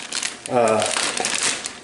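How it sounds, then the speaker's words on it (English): A plastic gallon zipper bag crinkles and crackles close by for a couple of seconds, set against a voice speaking. "I've got a gallon bag, zipper bag"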